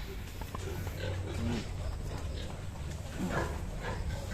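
Newborn piglets being castrated on a farm, giving short grunts and sharp squeals over a continuous noisy farmyard background.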